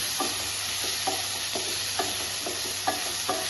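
Chopped tomato sautés in a pan for noodles: a steady sizzle with rhythmic spatula scrapes about twice per second, close and clear, with no voices.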